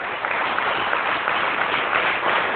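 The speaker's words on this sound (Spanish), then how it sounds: "Denle este aplauso a Jesús." A church congregation applauds in a dense, even burst of clapping that carries steadily from start to end.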